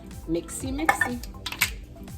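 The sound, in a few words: mixing walnut candy ingredients in a pot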